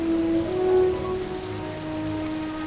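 Heavy tropical rain pours steadily onto foliage in an American jungle, a continuous dense hiss close around with a faint tonal hum in the background.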